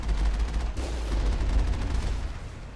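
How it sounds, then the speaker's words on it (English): Turrets on Asteroid X57 in Mass Effect fire in a dense, rapid stream of shots, loud and close, with a low rumbling bed underneath and no talk. "Look at all these turrets. And they've even got moving turrets."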